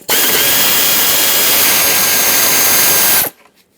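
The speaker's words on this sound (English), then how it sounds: "Remove the 2 8mm headed bolts." Power tool spinning out 8mm bolts from the fuel rail of a Ford E-350 with a 5.4L V8, one loud continuous burst of about three seconds, close up, then stopping abruptly.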